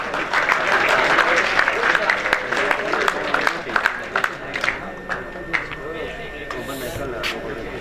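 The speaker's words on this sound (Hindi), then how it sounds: "वो इसके लिए जोरदार तालियां" Loud applause from a school farewell party audience, a dense burst of many hands clapping that stays strong for several seconds and then thins and tapers off toward the end.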